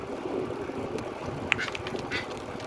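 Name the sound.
bird calling near Sanibel Island beach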